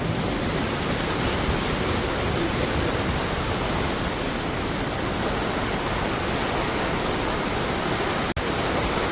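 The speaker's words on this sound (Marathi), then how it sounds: "हे बघा पाणी." Floodwater rushes across a pilgrimage path between Vadgaon and Dehu during the Pandharpur wari, a dense, steady roar of flowing water, loud and unbroken throughout, with one sharp click near the end.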